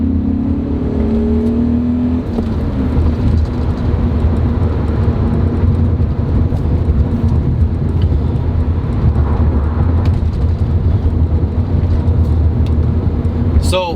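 A 17-year-old BMW M5's engine idling with a deep, steady rumble close by, a continuous low drone with a faint whirring layer that holds evenly throughout.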